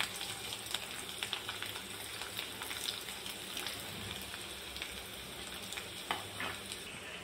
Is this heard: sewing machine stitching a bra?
no